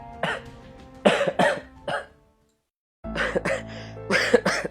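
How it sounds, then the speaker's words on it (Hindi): A person coughs in several short, harsh bursts, then a pause of near silence, followed by more coughing mixed with a voice speaking close by. "और ये तो खांस क्यों रहा है?"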